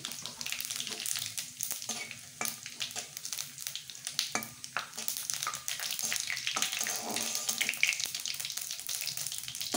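Bay leaf, dried chilli and whole cumin crackle in hot oil as spices for a mutton dum biryani, a close, uneven spitting and popping with bursts of sizzle and light stirring throughout.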